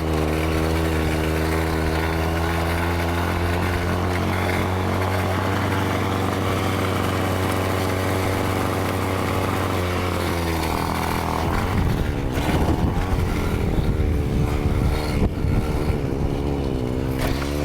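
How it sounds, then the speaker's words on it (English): A bicycle fitted with a built-in petrol engine being ridden: a loud, continuous, buzzing motor drone that holds steady, then turns rougher and more uneven partway through as the engine is worked harder. "why have an e-bike when you just have a motor on the back and pollute while riding?"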